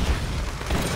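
A grenade blast in an online shooter game, one loud, dense, full-spectrum boom lasting about a second before cutting off abruptly.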